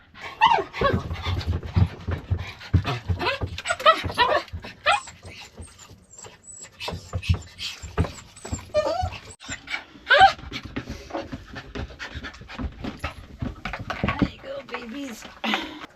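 A dog waiting for breakfast pants rapidly and whimpers up close in an excited, continuous stream of short breaths and thin whines, with a brief human voice now and then.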